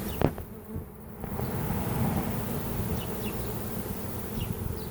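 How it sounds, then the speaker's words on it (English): Honeybee swarm fanning as the bees enter a hive box, a steady close buzzing drone that holds throughout with a couple of brief knocks near the start. "As they realize this is a good house, you'll hear their fanning much louder."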